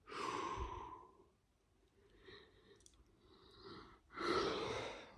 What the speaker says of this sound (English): I'll take a deep breath